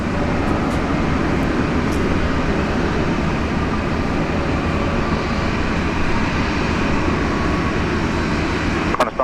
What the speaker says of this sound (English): Looked like a super smooth touchdown, that one.